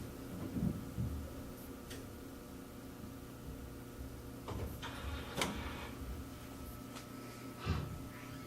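An Epson 7890 large-format printer powering up in serviceman mode gives off quiet mechanical whirs and a few sharp clicks and clunks over a steady low hum, heard up close with no one talking.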